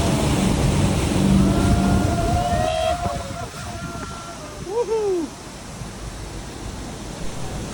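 The roar of Iguazu Falls on the Argentine side comes through as a loud, constant rushing hiss heard close up during a speed boat trip, with shrill cries and voices rising briefly above the water.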